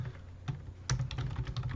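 Rapid typing on a computer keyboard, close and clear, a dense run of key clicks with a sharper strike near the start of the burst.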